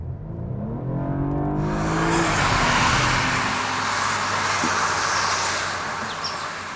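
A 2015 BMW 228i Coupe engine roars as it accelerates in sport mode, its pitch climbing and then holding steady, loud and close with a broad rushing noise.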